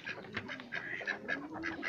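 Ornamental ducks quack repeatedly in quick, overlapping bursts at a farmyard, fairly close and moderately loud, with no talk over them.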